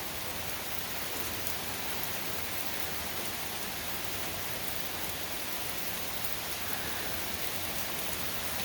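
Steady autumn rain falls outdoors during a thunderstorm, a dense, even hiss that stays level and unbroken throughout, with no voices and no thunder.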